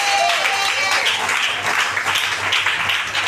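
A church congregation cheers and applauds in a dense burst of clapping and voices, sustained across the moment.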